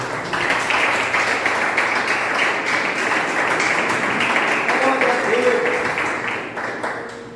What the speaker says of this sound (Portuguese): pode se assentar e louvar o Senhor com suas palmas